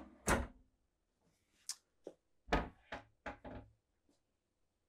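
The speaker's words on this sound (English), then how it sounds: "Pantry doors that you push to open for more storage." Pantry doors in a 2024 King Aire RV pushed open, giving a series of soft knocks and thunks with a few light clicks, spaced unevenly and close by, with no talking.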